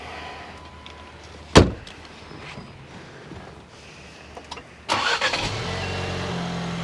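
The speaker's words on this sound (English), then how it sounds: "Let's go ahead and jump in the car, start it up." A car door thuds shut, then after a pause the engine cranks and catches, settling into a steady close idle that continues to the end.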